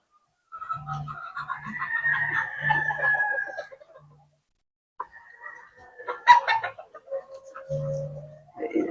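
Sweater gamefowl roosters in a backyard cluck in short low bursts, then crow in long, drawn-out calls, fairly close, with pauses between bouts.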